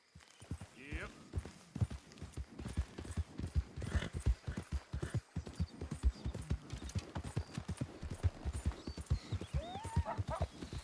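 Rhythmic clip-clop of a horse's hooves galloping in Red Dead Redemption 2, steady repeated hoofbeats with an occasional whinny and someone speaking over them.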